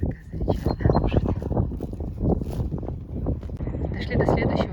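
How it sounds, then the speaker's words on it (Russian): Gusty wind blows outdoors across a farmyard with greenhouses, rumbling and buffeting the microphone in steady low bursts, with faint voices underneath. "Здесь ветрено."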